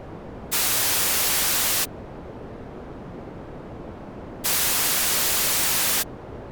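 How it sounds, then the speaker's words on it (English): Broadband noise with a constant muffled low-passed layer, twice switching to a brighter full-range hiss for about a second and a half each time before returning to the duller filtered sound. "Therefore, another name for the low-pass filter is called the high cut,"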